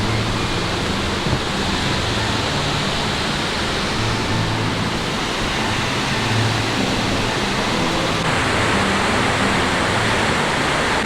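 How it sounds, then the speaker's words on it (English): A waterfall in Whangārei roars as a steady, dense broadband rush of falling water, continuous and fairly loud with no pauses, on a rainy day. "That's a good waterfall."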